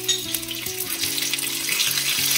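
Ginger paste frying in a pan as the base for a cabbage curry, a steady close sizzle with low humming tones underneath and no talking.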